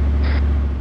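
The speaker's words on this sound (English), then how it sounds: "No, it's a tank." A tank's engine drones steadily and loudly in a Halo mod, with a deep continuous rumble and a brief higher whine partway through.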